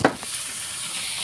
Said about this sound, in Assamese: এয়া চেৰা পোক ভাজিছে